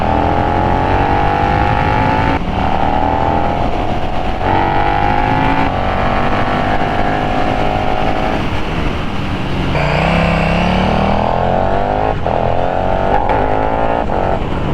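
A 2022 KTM Super Duke R with the baffle in revs loudly and close, its engine pitch climbing again and again through repeated gear changes, with a brief dip before pulling hard once more.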